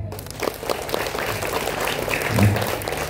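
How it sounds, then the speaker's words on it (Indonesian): Applause from an assembled group at a morning flag ceremony led by a police officer at a school, steady and moderately loud for about three seconds with faint voices underneath. "Tepuk tangan."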